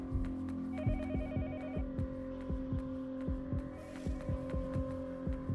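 A telephone rings faintly in the horror game Yomawari: Night Alone, a short electronic trill over a low droning hum and a steady, heartbeat-like throbbing pulse.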